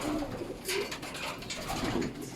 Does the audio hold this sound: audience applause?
no